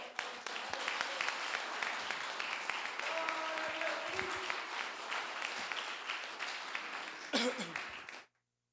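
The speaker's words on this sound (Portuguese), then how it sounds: "Aplaude a Jesus." A church congregation claps for Jesus during a Portuguese-language sermon on deliverance, a soft, distant-sounding, continuous patter of many hands that swells slightly near the end and then cuts off abruptly.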